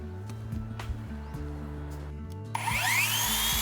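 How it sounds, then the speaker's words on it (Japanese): A cordless driver sinks screws to fix a wooden deck frame to its posts, with steady low motor hum and short bursts, then a louder rising whine at the end as a screw drives in close by. "ビスで固定します。"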